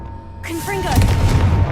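A Confringo fire spell in Hogwarts Legacy is cast: silence, then a sudden burst with rising whooshing tones and a deep rumbling boom that lingers loudly to the end.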